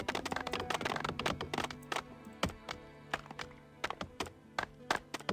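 Horse hooves clip-clop in Farthest Frontier, irregular hollow taps and thunks at close range with a busy rhythm, moderately loud and without talk.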